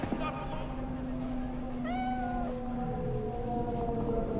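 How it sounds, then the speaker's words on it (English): A cat in Cyberpunk 2077 gives a drawn-out, rising and falling meow near the middle, heard over a continuous low ambient hum and a sustained tone, with no talk. "Alright, a friendly kitty."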